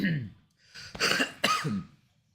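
A person clears their throat a few times, rough and close, with short raspy bursts and brief pauses between them.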